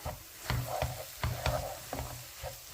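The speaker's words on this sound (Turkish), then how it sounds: "Bunları da şöyle bir tur güzelce karıştıralım." A spoon stirring bulgur in a pan with tomato paste for kısır, making about half a dozen distinct scraping strokes in a steady rhythm over a faint sizzle, with no talking.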